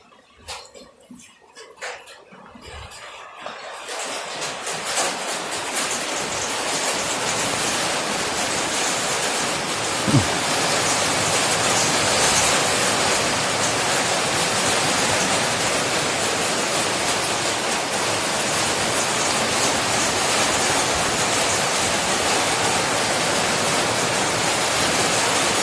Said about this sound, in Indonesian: Sepertinya hujan akan deras.